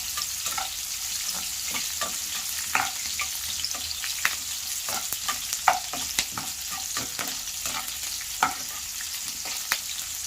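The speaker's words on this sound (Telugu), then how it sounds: "కట్ చేసుకున్నటువంటి ఆనియన్స్ను ఫ్రై చేసుకోవాలి" Chopped onions fry with urad and chana dal in oil, giving a steady close sizzle broken by frequent sharp clicks and scrapes of stirring, with no talk.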